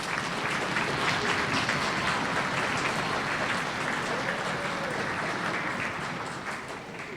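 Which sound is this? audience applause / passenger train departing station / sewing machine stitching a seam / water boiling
audience applause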